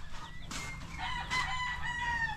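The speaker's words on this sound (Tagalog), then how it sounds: "Mga gala-gala sa paligid yung ano natin, mga alagang manok at pabo." Chickens cluck and a rooster crows nearby on a Filipino backyard farm where chickens and turkeys roam and feed on grass, with several overlapping calls and no talking.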